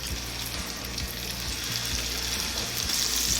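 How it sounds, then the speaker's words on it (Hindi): Seekh kebabs fry in their own rendered fat, giving a steady close sizzle with a crackling hiss throughout and a low rhythmic bubbling underneath, with no voices. "तो बाकी कबाब भी इसी तरह फ्राई कर लेंगे।"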